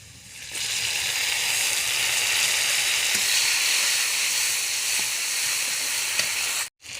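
Chopped tomatoes hit a pan of hot oil and ground spice paste, starting a loud, sustained hissing sizzle that holds steady for several seconds before cutting out briefly near the end, close and without speech.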